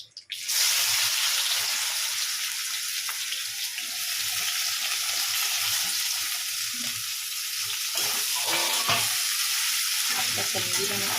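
Onion hits hot oil in a pan already holding turmeric, bursting into a loud, continuous sizzle close up, with faint clinks of stirring and a couple of brief knocks near the end.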